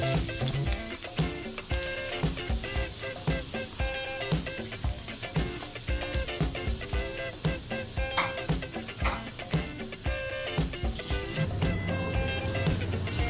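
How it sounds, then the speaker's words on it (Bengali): Chopped onions and sliced green chilies fry in hot oil for cabbage curry, a steady dense sizzle with crackling spatters and occasional utensil clinks, close and continuous throughout without talk. "পেঁয়াজটা হালকা করে একটু ভেজে নিব"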